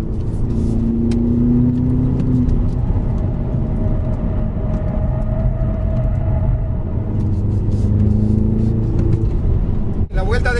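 A 2015 BMW X6M accelerates around the Circuit of the Americas race track in Austin, Texas, its engine a loud, steady rumble with rising and falling revs under a voice throughout.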